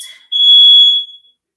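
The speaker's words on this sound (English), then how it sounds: "I do apologize for the alarm, but it's out of my control" An alarm goes off in a room with a single loud, piercing electronic beep of about one second that cuts off cleanly into silence.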